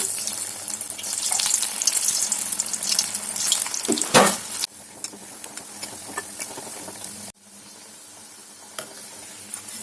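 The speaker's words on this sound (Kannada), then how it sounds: "ಪನ್ನೀರನ್ನ ನಾವು ಡೀಪ್ ಫ್ರೈ ಮಾಡ್ಕೊಳ್ಳೋಣ" Paneer cubes deep frying in hot oil give a loud, bright crackling sizzle with bursts of bubbling, a sharp rustle around the middle, then a quieter, steady fizz after a sudden drop.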